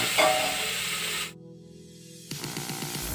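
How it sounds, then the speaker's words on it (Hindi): Spice masala cooking in a pressure cooker gives a loud, close sizzling hiss that cuts off abruptly for about a second, then resumes just as strongly. "मसाला मैंने डाल दिया है कुकर में, मसाला बन रहा है"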